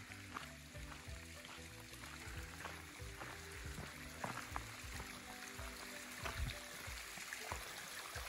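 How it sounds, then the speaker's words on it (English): A stream runs near a campsite, giving a faint, steady trickling and burbling of water with soft splashes, heard from close by without talk. "I hear some water running down here."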